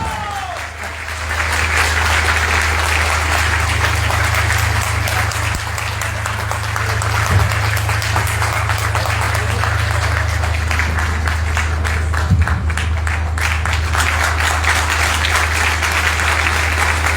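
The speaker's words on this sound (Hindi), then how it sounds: "जोरदार तालियों के साथ।" A large audience at a motivational speech event in Muzaffarpur claps loudly and continuously, a dense, sustained burst of applause lasting the whole stretch.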